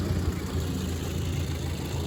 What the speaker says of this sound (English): let me get off the tractor here